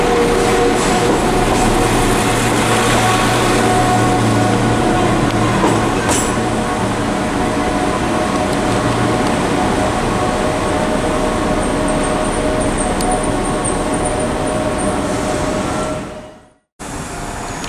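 A West Midlands Railway class 172 diesel multiple unit at Birmingham Snow Hill station, with a steady loud engine drone and rolling rumble that holds for many seconds, a faint high whine near the end, and then a brief sudden cutout.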